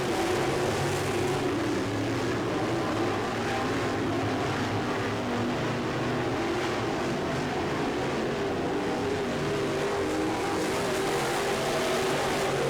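Race cars circle a track on the final lap, their engines droning as a steady, continuous broadband roar with no breaks, moderately distant and without any talk over it.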